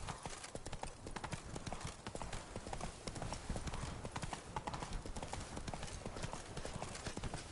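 Steady clip-clop of a horse's hooves trotting in the Witcher 3 game, a continuous quick rhythm of hoof beats under a dense, faint background mix.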